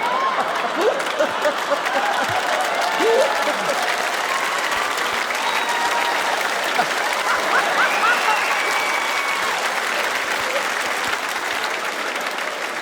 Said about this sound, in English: the team audibly applauds someone who's not speaking